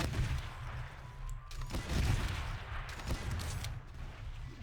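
Chaingunner enemies firing in a Combined Arms Doom mod: faint, distant bursts of rapid gunfire with occasional booms, forming a continuous low rattle.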